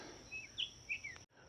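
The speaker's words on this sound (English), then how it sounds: "A lot of birds here." Birds call at a wetland, a few short bright chirps and whistles in quick succession over a steady background hiss, faint and somewhat distant.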